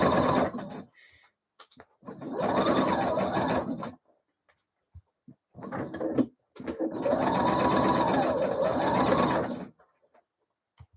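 A domestic sewing machine stitches a blouse flounce in two loud, close bursts of rapid mechanical whirring, separated by brief pauses and small handling clicks.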